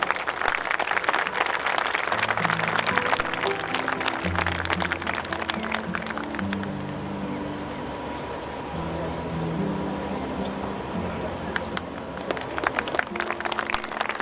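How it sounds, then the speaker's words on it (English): Applause at a school Founder's Day ceremony for the basketball champions receiving a trophy, sustained crowd clapping throughout, with low music tones running underneath. "They deserve a huge round of applause."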